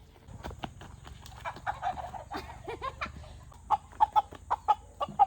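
Chickens cluck around a home in the Philippine countryside, first in a scattered murmur, then in a run of sharper, louder clucks near the end, close by.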